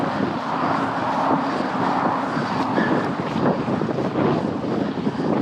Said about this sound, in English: We're against the wind here.